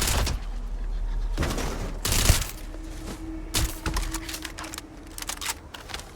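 Automatic gunfire in the video game Starfield, with several rapid bursts of shots cracking over a steady, busy game background.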